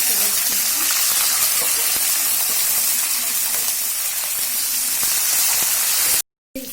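Green chilies sizzle in hot oil with tempering spices of fenugreek, coriander seeds and cumin for a tomato mint chutney. A loud, continuous hiss and crackle is broken by a brief dropout near the end.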